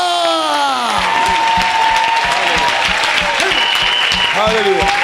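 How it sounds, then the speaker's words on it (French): Audience at a church miracle service clapping together in a loud, sustained burst of applause, with cheering and voices rising over it. "Put your hands together for the Lord"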